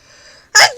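A person sneezes once, a sharp loud close burst after a faint quiet intake, ending in a short trailing vocal tail.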